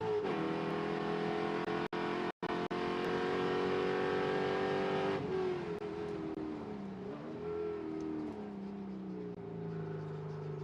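Spec Corvette race cars roaring around Auto Club Speedway, a loud sustained engine drone with brief breaks, then a lower note shifting and falling as cars pull away, no talk.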